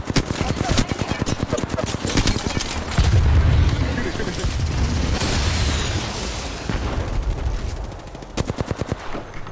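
Gunfire in the battle royale game Apex Legends, rapid automatic bursts and heavier booms rolling on and off, with a player talking over the shooting.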